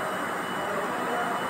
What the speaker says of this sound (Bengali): এই যে আমরা মেট্রোতে চেপে পড়েছি